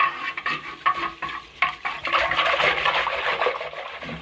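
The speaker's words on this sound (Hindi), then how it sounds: "थोड़ा सा और फेंटेंगे" Whisking a kadhi batter of gram flour and yogurt in a bowl, uneven wet stirring strokes with short pauses, close and fairly loud, no talking.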